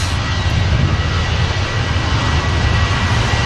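A Ryanair jet departing Manchester Airport makes a loud, steady engine roar with deep rumble and broad hiss, continuous and close, with no talk.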